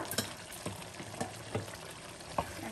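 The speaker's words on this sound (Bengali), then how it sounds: "এখন ভালো করে এটাকে মিশিয়ে নেব চিকেনের সাথে।" Chicken with a spoonful of yogurt stirred in a hot pan, with a steady low sizzle and a few soft scraping strokes at irregular intervals, close and fairly quiet, with no talking.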